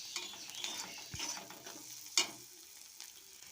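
Onion with salt and spices fries in a pan for a brinjal bharta and is stirred by hand: a soft continuous sizzle broken by scraping strokes and one sharp knock of the spoon partway through.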